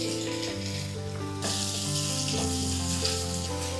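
Chopped onions frying in a pan make a steady close sizzle that swells louder partway through, with a low steady hum underneath, and no talk.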